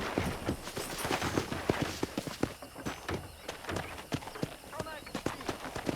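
Quick, regular hoof clip-clops of a horse moving at a brisk pace on a ranch in the Xbox 360 game Red Dead Redemption, close by, with voices speaking over them.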